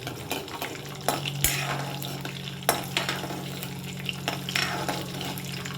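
Urad dal, mustard seeds and cumin seeds sizzle and crackle steadily in oil in a pan while a spoon clinks and scrapes against the metal a few times. No one speaks.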